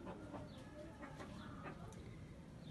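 Short clucking calls from a hatch fighting rooster, fairly close, repeating over a steady background of farmyard noise.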